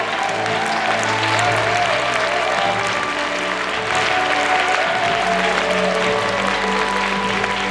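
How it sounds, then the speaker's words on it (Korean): Dense, continuous applause and cheering from a large crowd welcoming the keynote speaker at a 2023 unification rally in the Chungcheong region, with steady music sustained underneath and no pause. "감사의 박수와 환호를 부탁드리겠습니다"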